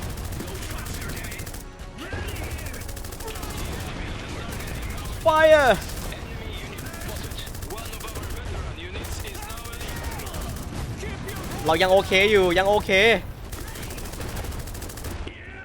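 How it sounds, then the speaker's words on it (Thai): Mech gunfire in the Iron Harvest 1920 strategy game: continuous heavy automatic fire and explosions throughout, with whistling projectile sweeps and louder bursts, under excited talk from a commentator. "มันยิงตอบโต้กลับมาหาเราอ่ะ"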